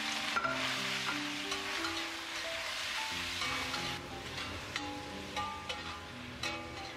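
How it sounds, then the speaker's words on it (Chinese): Sliced pork stir-frying in a small amount of oil with salt in a wok gives a steady, close sizzle with scraping stirs and occasional crackles, and no voices. "再倒入切好的肉片进去翻炒"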